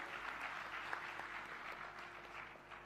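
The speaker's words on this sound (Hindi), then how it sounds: "मैया के लिए बार ताली बजाइए" A religious storytelling gathering's audience breaks into steady, dense applause that fills the space at an even level from start to finish, with no voices rising above it.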